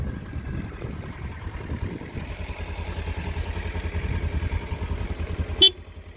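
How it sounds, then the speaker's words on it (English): A Kawasaki Ninja 300 sounds one short horn beep near the end, over the steady low rumble of its idling engine with a standard exhaust. "Horn does work."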